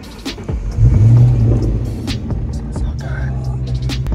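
A 500+ hp Ford Mustang Terminator Cobra with a manual gearbox cranks and catches, its engine settling into a loud, steady low rumble close by with brief revving, while people talk briefly over it.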